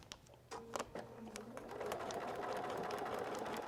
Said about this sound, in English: I want to be able to feel these stitches right here before I sew this seam